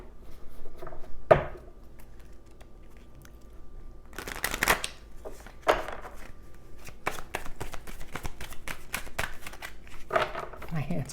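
Tarot cards shuffled by hand in a series of soft riffling and slapping bursts, with longer flurries near the middle and toward the end, close by and moderately loud, under quiet room tone with a voice talking at points.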